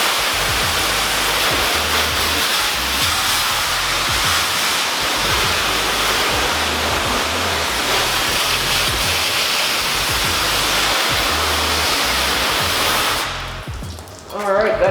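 A garden hose sprays water across a car engine bay in a steady, loud rushing hiss that runs almost unbroken, then falters and cuts out near the end.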